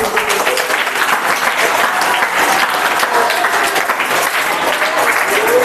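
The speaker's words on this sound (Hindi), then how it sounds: "ताली बजा सकते हो" Classroom applause for a student's correct answer during a maths lesson: many hands clapping together in a loud, sustained, even patter that continues for several seconds.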